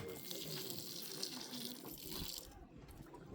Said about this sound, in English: We pour libations